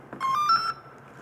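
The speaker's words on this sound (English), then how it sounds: "Should hear a beep." A small paper robot sounds a single electronic beep right after its battery is plugged in, a short steady tone rising slightly in pitch and lasting about half a second, close and clear.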